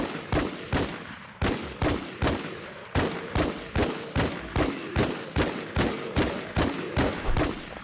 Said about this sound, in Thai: ได้กระสุนยิงบอสเพิ่มครับ มาทุกคนยิงต่อครับ